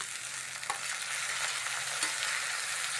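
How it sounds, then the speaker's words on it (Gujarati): Chopped onion and chili tempering sizzles steadily in a hot pan, a constant bright hiss with a couple of faint stirring clicks and no voices. "તો આપણે ડુંગળી અને મરચાંની કટકી જે આપણે વઘાર બનાવ્યો હતો એ આપણે વઘાર હવે સળવા આપણે મૂકી દીધો છે."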